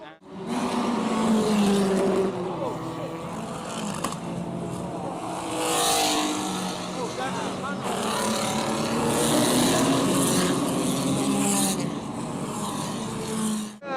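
Race cars roaring around a circuit during a race with a big crash, engines screaming and revving continuously with rising and falling passes, a commentator talking over the noise throughout.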